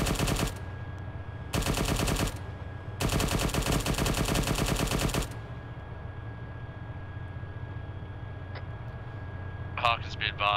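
Military video game gunfire comes in three long, loud bursts of rapid automatic shots, followed by a quieter stretch with a steady hum and a few faint chirps near the end.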